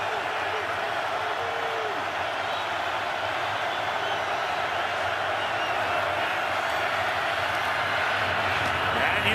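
A packed NFL stadium crowd roars during the Vikings at Packers game as the home crowd is urged on before a third down, a dense, sustained wall of noise for several seconds with voices over it.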